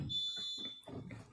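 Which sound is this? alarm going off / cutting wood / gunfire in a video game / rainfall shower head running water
alarm going off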